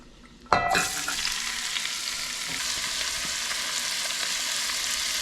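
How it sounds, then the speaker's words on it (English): Vegetables hit hot pancetta grease in a pot for Tuscan ribollita with a sudden loud sizzle, then settle into a steady close frying hiss. "Saute all that so that's nice and translucent"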